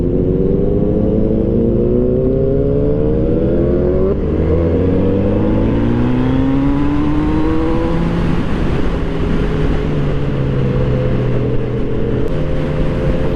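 Steady inline-four engine drone of a Kawasaki Z900 RS retro motorcycle cruising on a road, pitch rising and falling smoothly through gear changes with heavy wind rush, loud and continuous with no talking.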